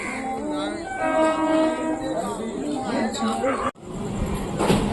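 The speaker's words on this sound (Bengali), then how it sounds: "আমাদের ট্রেন চলে এসছে" A train pulls into a station, rumbling and rolling along with a long horn-like tone, loud and close, while people talk nearby.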